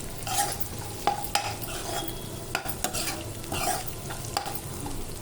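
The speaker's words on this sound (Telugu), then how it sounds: "ఇప్పుడు ఎండుమిర్చి, కరివేపాకు వేసుకుందాం. ఎండుమిర్చి బాగా ఫ్రై అయ్యేంత వరకు వేయించుకోవాలి." Dried red chillies and curry leaves fry in oil, a soft close sizzle broken by sharp scrapes and clinks as a spatula stirs against the pan.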